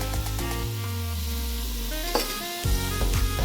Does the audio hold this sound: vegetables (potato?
yes